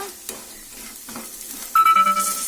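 Potatoes fry in oil with a quiet, close sizzle broken by scraping stirs, and a sharp tonal chime cuts in loudly over the frying near the end.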